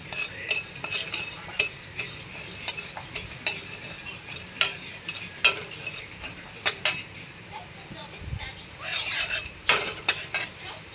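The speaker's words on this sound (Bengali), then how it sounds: "এখন মশলাটা ভেজে নেব" Spices being stirred and dry-fried in a wok while cooking a chicken curry, with repeated sharp scrapes and clinks of a metal spatula against the pan over a low sizzle.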